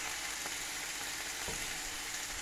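Beef mince patties frying in a pan, a steady broadband sizzle that holds throughout, close and even, with a couple of faint taps from the pan.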